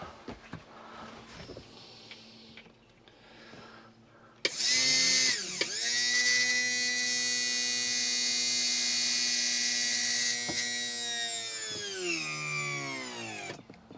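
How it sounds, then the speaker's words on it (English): The trim pump of a 1973 Cobalt boat starts up loud and close, a steady electric whine and hum that holds evenly and then winds down near the end, after a quieter stretch of faint background noise. "let's see if this pump picks up prime okay"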